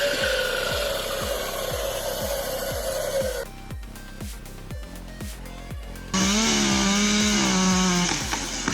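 A chainsaw, model 5143R, cuts through a 130 mm red oak log, snarling loudly and steadily, then dropping to a rougher, quieter chatter before revving sharply back up near the end.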